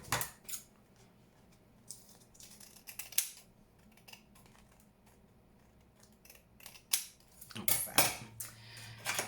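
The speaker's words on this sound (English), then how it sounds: "Just cut that one off a little bit." Scissors snip through Tim Holtz patterned paper while envelope booklets for a junk journal are trimmed. There are several sharp, crisp cuts, spaced unevenly and close by, with a quick flurry of snips near the end and no talking.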